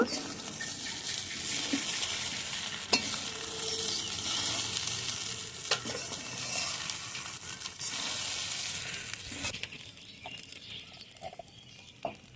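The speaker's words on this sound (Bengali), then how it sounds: "এখন ভেজে রাখা চীনাবাদাম, কিশমিশ আর কাজু দিয়ে দিলাম। এগুলো চিড়ের সঙ্গে মিশিয়ে দেব।" Fried peanuts, raisins and cashews are stirred into flattened rice in a pan, producing a steady hiss and sizzle with scraping and stirring sounds and occasional sharp clicks of a spoon against the pan.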